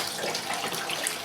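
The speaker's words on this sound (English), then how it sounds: "I'm leaving the water is still running as the wash is spinning" Water runs steadily into the wash tub of a compact twin tub washing machine while the load spins, a continuous near hiss of pouring water with no talk.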